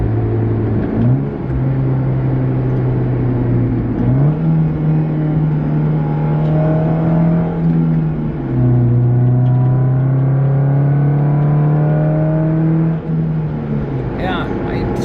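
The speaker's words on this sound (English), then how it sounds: "So the exhaust is very bass." Deep, bass-heavy exhaust note from a 2009 Nissan Cube fitted with a J2 stainless steel cat-back exhaust, droning steadily and rising in pitch through gear changes while driving, with a voice talking over it.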